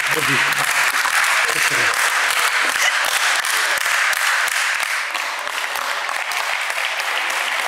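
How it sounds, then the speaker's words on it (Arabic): A studio audience on a Tunisian TV show applauds for Warda, sustained dense clapping filling the whole stretch and easing slightly toward the end, with a voice briefly audible under it at the start. "تصفيق على ورده."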